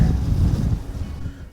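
Wind buffeting the microphone on the Crag Fell summit in the Lake District's Western Fells, a brief low gusty rumble that eases toward the end.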